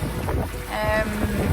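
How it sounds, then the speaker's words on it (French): Wind buffeting a sailboat at sea in 15 to 20 knots, a steady broadband rush with hull and water noise and a brief tonal whine, continuous and fairly loud throughout. "Ça bouge un peu, il y a 15 et 20 nœuds de vent."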